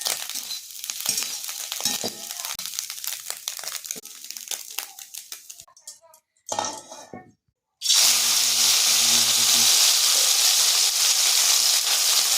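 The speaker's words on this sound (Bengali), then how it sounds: "মাছটা ভাজা চলছে।" Small fish frying in a pan, crackling and sizzling oil with irregular pops and stirring scrapes, briefly dropping out, then a bright, steady, loud hiss of frying, with no talking.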